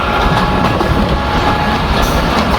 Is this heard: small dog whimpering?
no